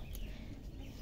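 Chickens cluck and murmur in a backyard coop on a home farm where eggs are gathered, a steady low flock chatter with a brief higher squawk near the start, fairly close and continuous.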